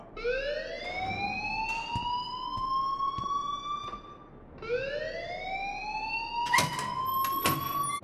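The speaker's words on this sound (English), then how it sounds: "please turn off that alarm since that's your job." A loud electronic alarm in the video game Life is Strange, set in a high school, sweeps upward in pitch twice, each rise long and steady, followed by sharp clanging rings near the end.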